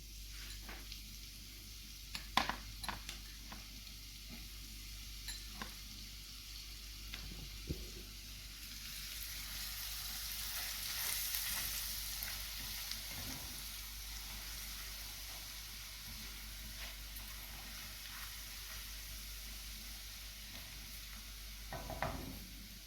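Red chilli powder and chopped garlic fry in a pan for a spicy mixed dal. A steady, soft sizzle runs throughout, with occasional clicks and stirring sounds. Nobody speaks.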